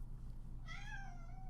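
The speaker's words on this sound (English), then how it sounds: "I don't know if you guys can hear the cat in the background, but she wants something." A domestic cat meows once in the background, a drawn-out, rising-then-falling call heard faintly over a steady low hum, with no talking.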